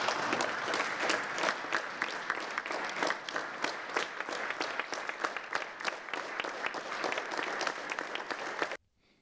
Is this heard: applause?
yes